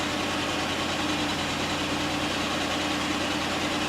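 A Jeep Liberty engine idles steadily with one fuel injector disabled, a continuous mid-pitched rumble with a faint vibrating hum throughout, close by and without talk.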